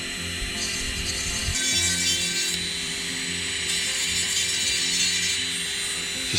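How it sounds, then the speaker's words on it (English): Cone-shaped diamond burr on a rotary tool grinding and smoothing the joints of carved wooden crawfish legs, a continuous high whine with a gritty buzz that rises and dips as pressure changes, no voices. "now I'm going to take this little cone-shaped diamond burr here"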